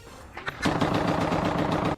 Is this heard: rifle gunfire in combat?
yes